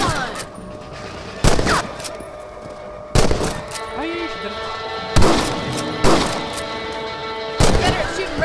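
Gunshots from rabbit hunting in Red Dead Redemption ring out as about five sharp, loud reports spaced a second or two apart, over a steady game ambience.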